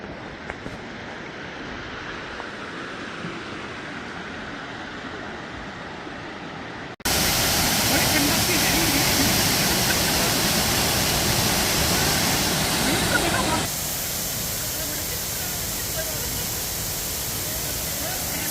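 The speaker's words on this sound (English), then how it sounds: "The waterfall!" Waterfall on a creek along the Appalachian Trail, a steady broadband roar that starts softer and distant, then jumps louder and closer partway through, with wind adding to the constant rushing wash.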